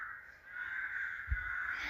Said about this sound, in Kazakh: Айтпақшы, неғысы қарғалар жүр.